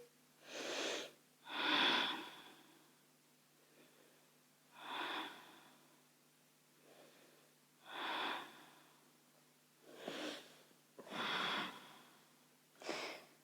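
Slow, audible breaths come and go close by, each inhale and exhale a soft airy rush separated by quiet pauses.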